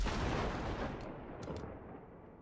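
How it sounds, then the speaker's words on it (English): Grenade detonation in Cyberpunk 2077: a single loud, broad blast right at the start that rumbles and slowly fades, with a couple of faint high clicks in the tail. "Now, detonate the grenade."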